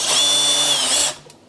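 A power drill whirs loudly and close for about a second while removing screws from a Dell XPS 2720 all-in-one computer, then spins down abruptly.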